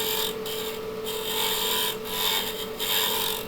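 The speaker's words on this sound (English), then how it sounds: "I'm just going to do a quick pull cut here to get the edge right" Bowl gouge making a pull cut on a wooden piece spinning on a lathe, giving a steady close scraping rasp over the motor's hum, with brief dips and returns as the tool eases off and back into the cut.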